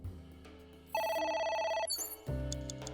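Telephone ringing in the video game AI: The Somnium Files, a loud electronic trill with rapid pulsing tones that rings for about a second amid ambient game music, then cuts off.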